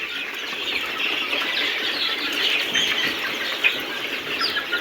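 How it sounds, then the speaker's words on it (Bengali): Two-month-old Egyptian Fayoumi chickens on a farm, a busy flock giving steady overlapping clucks and chirps with occasional wing flaps, close and continuous throughout. "দেখেন ২ মাস বয়সী অরিজিনাল মিশরীয় ফার্মি।"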